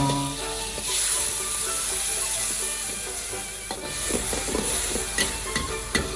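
Wide rice noodles stir-fried with stock in a wok, a steady bubbling sizzle broken by clattering scrapes and taps of a spatula against the metal, close and alone.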